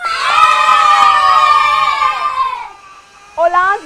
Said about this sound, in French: Alors, applaudissez pour votre équipe.